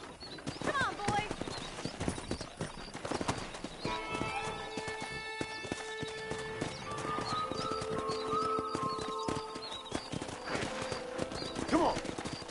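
Wild horses in the Red Dead Redemption video game gallop past with steady hoof clip-clops and several loud neighs and whinnies, while voices talk intermittently over the herd.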